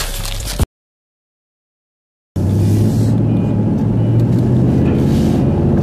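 A Mustang lawn mower engine runs with a loud, steady low drone, cut off by a gap of total silence before resuming at full strength, and no voices.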